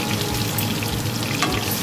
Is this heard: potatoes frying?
yes